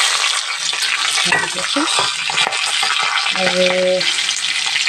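Bay leaf, fresh green chilies, dried chilies and panch phoron sizzle steadily in hot oil, a continuous close frying crackle with a brief stirring sound and a faint word spoken over it.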